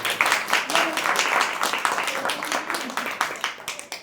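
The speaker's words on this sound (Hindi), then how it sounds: "प्रभु को जोर से ताली बजाइए" A church congregation claps loudly, a fast run of bright, overlapping claps in steady waves, close and lively, with a voice faintly beneath.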